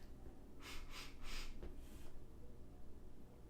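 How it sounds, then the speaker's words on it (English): Three quick, close sniffs at a Quest protein bar, breathy and rhythmic, followed by a fainter fourth draw of air over a quiet room. "first we'll give it a little sniff"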